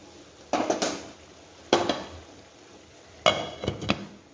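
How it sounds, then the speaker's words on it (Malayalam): Three separate bouts of a spoon scraping and clanking around a pot as salt is stirred into a soybean curry, with quiet pauses between them and no voices. "ഉപ്പ് ഇതിൽ നല്ല പോലെ തന്നെ ഒന്ന് ഇളക്കി കൊടുക്കാം."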